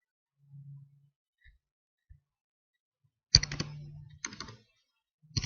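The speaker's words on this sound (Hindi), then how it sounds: "आइए हम इस पे जो है वो 3 स्टेटमेंट जो है वो टाइप करके देखते हैं" Keystrokes on a computer keyboard as GW-BASIC statements are typed: a quiet start with a few isolated taps, then dense bursts of rapid clicking around the middle and end, close and alone with no talk.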